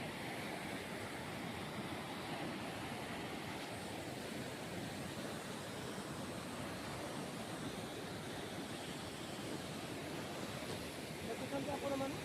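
Rushing water at Sundaragada waterfall in Dadakangia pours in a steady, broadband roar that stays loud and unbroken throughout, with no pauses or distinct splashes standing out.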